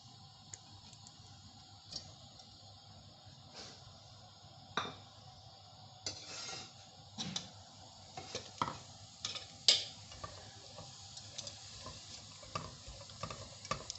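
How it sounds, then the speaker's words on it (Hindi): Green cardamom fries in a pan for bottle gourd kheer with a faint, quiet sizzle, broken by scattered clicks and taps of stirring against the pan, and no voices. "इसको अच्छी तरह मैं फ्राई कर लूँगी।"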